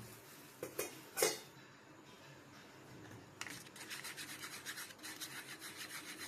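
Candle wax stirred to blend in colour powder, giving a few sharp scraping strokes early on and then a steady, soft rubbing rasp that continues to the end.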